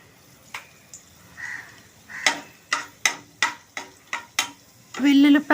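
Mustard seeds, chana dal and urad dal tempering in hot oil for a raw banana fry, heard as a run of sharp clicks and stirring knocks about every half second, then a louder sizzle as more goes into the pan.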